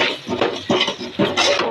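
Soya chunks stirred into masala in a pan, heard as several quick, rhythmic scraping and clattering strokes of a spoon against the pan, close and fairly loud, with no talking.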